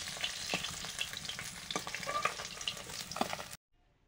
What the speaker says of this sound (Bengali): প্রথম রাউন্ডের মাছ ভাজা হয়ে গেছে, পরের আর কয়েকটা আছে, ভেজে নেব।